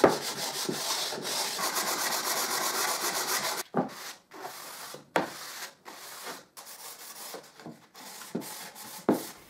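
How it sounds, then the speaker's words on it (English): Sandpaper rubbing back and forth over two small glued wooden squares, a fast continuous scrubbing at first, then slower separate strokes with short gaps, close and fairly loud. "And when the glue is dry, I also sand the 2 squares."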